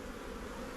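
Honey bees buzzing over hive frames during a backyard beekeeping hive inspection, a faint continuous low hum of many insects close by with no talk.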